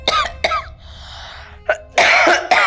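A woman coughs several times in short, harsh bursts indoors, close and fairly loud, the last bursts heavier and rougher.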